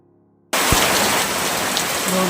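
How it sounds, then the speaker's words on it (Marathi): Heavy monsoon rain begins abruptly and pours down steadily, heard from a back veranda, a dense, loud hiss of drops hitting surfaces close by. "पाऊस पडतो"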